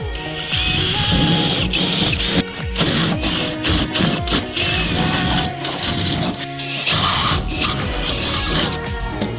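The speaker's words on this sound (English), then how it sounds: "I'm going to get cracking on drilling these bad boys out" Power drill boring out holes in a metal tub rack, a loud whining grind that runs almost without pause, with rattling and clattering of the metal throughout.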